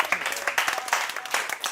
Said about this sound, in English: Let's clap for our technology.